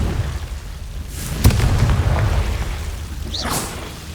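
Confringo fire spell bursting in Hogwarts Legacy on PS5, a sharp crack followed by a rumbling boom with a whooshing tail and a second fainter burst, no voices.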